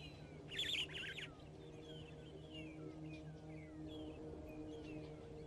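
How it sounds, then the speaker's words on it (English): Wild birds call in the background of an African wildlife setting, with a brighter burst of chirps early on, then scattered thin whistles and tweets over a faint low steady hum. "You can also hear some wonderful birds in the background."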